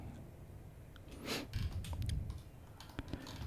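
Quiet keystrokes on a computer keyboard, a loose cluster of soft clicks and taps with a few sharper presses near the end, close by, with no voices.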